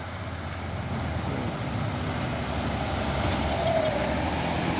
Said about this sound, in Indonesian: Bus pariwisata.